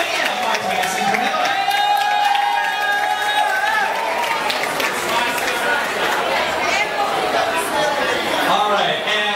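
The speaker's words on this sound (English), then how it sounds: "Give them a round of applause, please." Audience at a couples event, with a crowd clapping and cheering steadily and loudly throughout, dense chatter and voices mixed in, and music-like tonal sounds layered over the noise.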